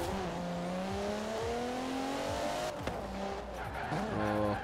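A car skids after the handbrake is pulled in the video game Forza Horizon 4, its engine revving and falling while tires squeal briefly, with another rev and skid toward the end.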